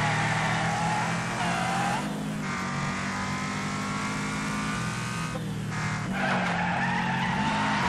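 A car in the Wreckfest racing game runs off the road into dirt with a flapping tire, giving a steady loud engine drone with scraping, skidding tire noise throughout and no voices.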